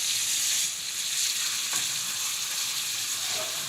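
Italian sausage with fennel and peperoncino sizzles in a pan, a steady, bright frying hiss with faint stirring scrapes, close and moderately quiet, with no voices.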